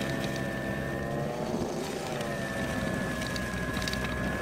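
Spyker KAT 2X snowblower clearing a driveway, its engine droning steadily and close up, an even, loud mechanical hum with a slight pitch shift midway and no talking.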